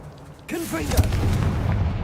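Confringo fire blast spell from the Hogwarts Legacy video game, a sudden whooshing burst followed by a punchy thump and a rumbling tail, with game voices overlapping the blast.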